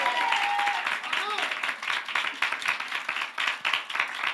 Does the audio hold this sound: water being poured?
no